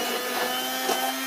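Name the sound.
stick blender mixing liquid conditioner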